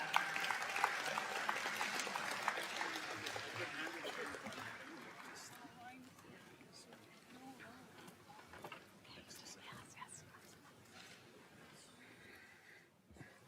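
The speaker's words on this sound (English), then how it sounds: "Let's give him a big round of applause as he makes his way up." Audience applause during a live discussion, a burst of clapping that is strongest at the start and fades over several seconds into quieter, scattered claps and room noise.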